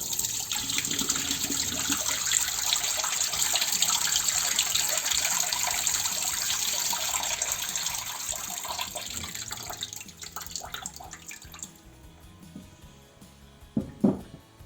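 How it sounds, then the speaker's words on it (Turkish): Bitter soaking water drains from black Kalamata olives in a loud, continuous pouring gush that runs steadily for about ten seconds, then thins into a few trickles and drips. "Şimdi bu suyu tamamen süzüyorum."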